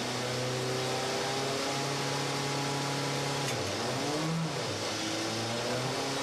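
A WTCC touring race car at the Shanghai race holds a steady engine note without changing down gears. The engine drones loud and continuous, then its pitch sags and wavers briefly before settling again.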